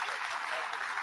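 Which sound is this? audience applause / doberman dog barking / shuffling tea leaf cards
audience applause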